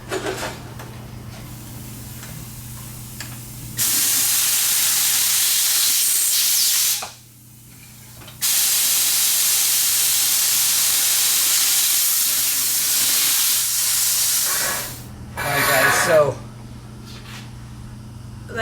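Compressed air blasts at a Showa SFF Air TAC motorcycle fork in two long loud close hisses separated by a short pause, followed by a brief third burst, with faint talk around it.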